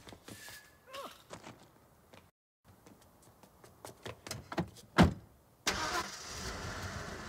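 A car engine starts after scattered footsteps and clunks, a sharp crank near the middle, then the engine catches and revs on as the car drives away in a steady rising rumble.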